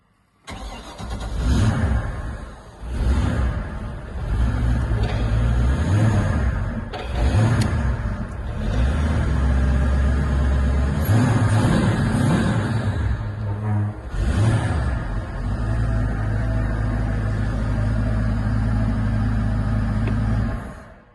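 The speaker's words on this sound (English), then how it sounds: "fire up the engine briefly so you can hear the engine starting and running" The 320 hp Monsoon V8 inboard engine of a 2008 Malibu Sunscape 20 LSV boat cranks and fires, then runs with a deep throbbing rumble, rising in brief revs before settling into a steady idle.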